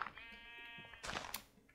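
A Minecraft sheep lets out one short, nasal bleat, followed by a brief burst of shuffling game noise, all at low volume.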